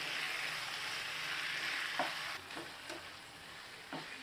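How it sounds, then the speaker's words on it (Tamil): Half a kilo of washed chicken hits a pan of masala for Madurai-style chicken sukka, giving a steady, close frying sizzle with a few soft scrapes and stirring knocks as the pieces are tossed. "இப்போ நம்ம 1/2 கிலோ சிக்கனை ஆட் பண்ணிக்கலாம். கழுவி வச்சிருக்கிற 1/2 கிலோ சிக்கன். இதை நல்லா டாஸ் பண்ணி விட்டுக்கலாம்."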